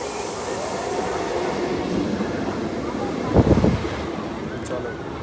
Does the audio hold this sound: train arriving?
yes